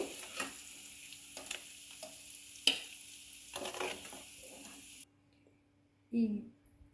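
Paneer butter masala ingredients fry in a pan with intermittent sizzling and stirring scrapes, broken by someone talking over them, before the sound drops away to near silence near the end.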